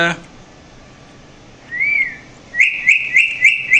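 A pet hill myna gives a rising whistle, then a run of four or five quick, bright whistled notes in a regular rhythm, close and clear over a quiet room.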